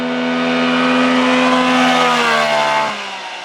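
A mini truck engine revs high and holds a steady, loud whining pitch for several seconds, then drops off sharply near the end, with no talking.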